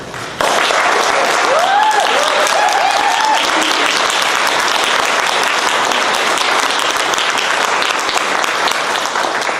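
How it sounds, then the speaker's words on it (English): Sustained audience applause at a behavioral health bill signing event, steady and dense clapping filling the room for nearly ten seconds, with a few brief voices rising faintly over it early on. "Another round of applause for our wonderful speakers"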